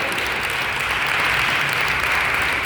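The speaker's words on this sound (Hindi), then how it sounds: "ताली बजाओ" An audience of women at a Women's Day gathering in Raipur, Chhattisgarh claps together, a loud, dense, continuous wall of applause filling the whole moment without pauses.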